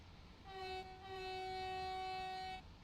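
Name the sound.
Class 66 train passing in Train Sim World 3 video game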